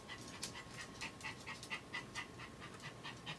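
A dog pants steadily behind a person, a rapid, regular rhythm of soft breathy puffs, fairly faint and heard alone without talking.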